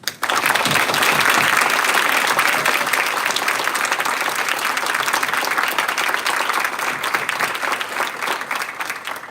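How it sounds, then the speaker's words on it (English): A college crowd at an Order of Omega induction ceremony gives the two inductees a final round of applause, dense and sustained, filling the hall loudly from start to finish before thinning slightly at the end. "let us offer our two inductees one final round of applause"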